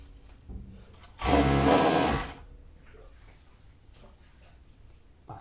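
A sewing machine fitted with an elastic presser foot stitches elastic onto a retro bikini. One loud, close burst of whirring lasts about a second, followed by quiet fabric handling.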